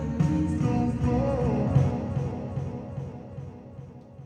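A slowed, pitch-shifted sample for Chuck Person's Angel swells as a murky, smeared wash of low tones with a soft roll, fairly quiet and fading gradually over a few seconds.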